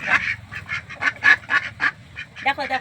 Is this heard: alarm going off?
no